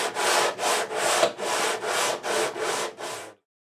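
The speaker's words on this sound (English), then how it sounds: "this I do very lightly and very quickly with our sanding block." Steady back-and-forth rasping of a sanding block on a Taylor guitar neck's wood, about seven even strokes in a quick rhythm, close and fairly loud, then silence.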